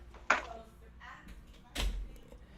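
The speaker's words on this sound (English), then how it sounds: "close the door" An interior door closes with a sharp click, then after a pause comes a duller, heavier thud as it shuts, quiet and fairly near, in a podcast room with no talking.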